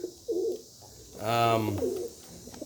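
A tippler pigeon in a loft gives a single drawn-out, throaty coo, close and clear, between softer shuffling sounds and faint background noise.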